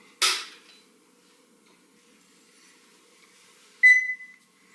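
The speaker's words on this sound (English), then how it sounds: "The car just beeped." A single short electronic beep from a car as it is plugged in to charge from solar power, clear and alone after a brief earlier click, with quiet surroundings otherwise.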